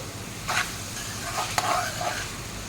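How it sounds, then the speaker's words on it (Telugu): Ginger garlic paste sizzling in a hot pan while being stirred, a steady soft frying hiss with a few scraping strokes of a spoon, close and alone. "ఇది కూడా వేసి బాగా ఫ్రై చేసుకోవాలండి అల్లం వెల్లి పేస్ట్ కూడా"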